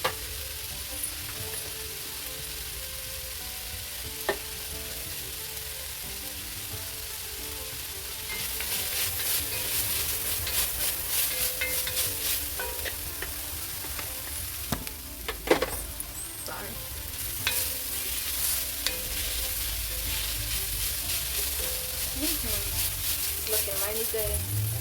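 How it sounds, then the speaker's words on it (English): Onions and carrots sauté in a pan, a steady sizzle that grows louder partway through, with occasional stirring clatter and spoon taps nearby. "The more you saute your onions and carrots, the more that sweetness will come out of them"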